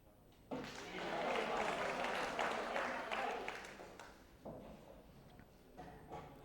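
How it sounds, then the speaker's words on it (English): A crowd at a women's pool world championship final bursts into cheering and applause after a ball is potted, swelling loudly for a few seconds then fading, with a commentator's voice coming in over the tail. "Crowd cheer on with every pot."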